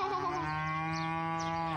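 A cow at an animal farm in Dubai lets out a single long, loud, sustained moo that holds steady and then cuts off, heard up close with no talking.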